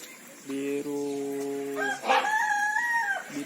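A green peacock gives a loud, close call: a sustained buzzy tone is followed by a second call that rises, holds and falls, set against faint background noise.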